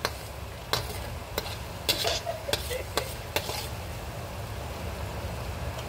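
Cajun seafood being stirred with seasonings such as oyster sauce and onion powder, giving several scraping clinks of a utensil against the pot over a soft continuous sizzle.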